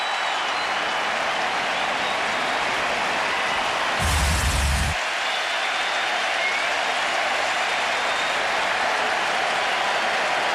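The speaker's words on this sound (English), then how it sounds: "this crowd is so loud right now." A dense, roaring stadium crowd at a Yankees vs Red Sox baseball game at Yankee Stadium in 2004, cheering and applauding continuously and loudly throughout, with a brief thumping burst in the middle.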